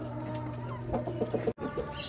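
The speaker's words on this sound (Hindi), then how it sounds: "तो अभी ये अंदर ही है तो ये करकरा रही है" An Aseel hen clucks in a soft, low, repeated cackle from inside a coop, with a brief clatter partway through and other fowl faintly behind.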